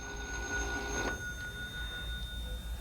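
A telephone bell rings faintly with a steady electric tone, over low background hum.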